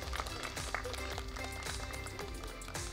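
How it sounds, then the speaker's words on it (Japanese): Audience applause at the youth-category award ceremony of the Nishi-Nihon Road Classic cycling race, a steady, dense wash of clapping that carries evenly through the whole stretch with no voices on top. "改めて大きな拍手をお送りください。"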